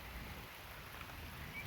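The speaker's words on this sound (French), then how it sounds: "Ça pleut, ça pleut." Rain falls in a faint, steady, continuous hiss, brief and distant with no other sounds.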